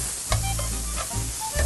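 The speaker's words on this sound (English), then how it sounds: "We get some mushrooms in there. These are chopped up portobello mushrooms, just the caps. And let that saute for just a minute." Chopped portobello mushroom caps sauté in a hot pan with a steady, close sizzle, broken by a few short scraping stirs.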